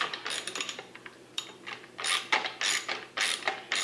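A bolt in the stock of a Benelli Super Nova shotgun is backed out with a ratcheting tool, giving repeated close clicking strokes in uneven bursts with no talk.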